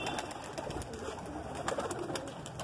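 Pigeons coo faintly amid steady outdoor hiss, with soft flutters and no talk, while high-flying pigeons circle overhead in Jodhpur, Rajasthan.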